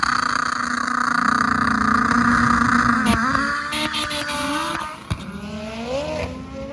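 A race car tears through a qualifying pass at a PFI Speed Fest drag event, a loud sustained engine howl that breaks into rising shifts and sharp crackles toward the end, with no talk.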